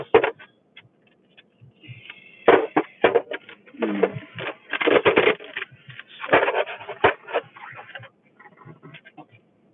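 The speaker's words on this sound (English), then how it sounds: "The cards keep shuffling." Tarot cards shuffled by hand during a live reading, heard close up in bursts of riffling and papery slaps separated by brief pauses, with soft voices in the background.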